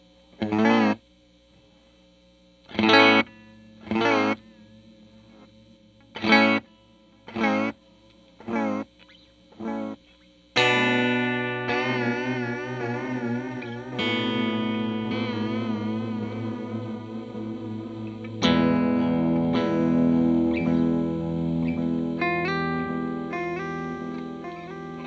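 Electro Harmonix Deluxe Memory Man XO and Deluxe Memory Man Tap Tempo analog delay pedals on guitar, first short plucked notes with repeating echoes, then sustained chords with wavering, cranked delay trails, loud and close with no talking.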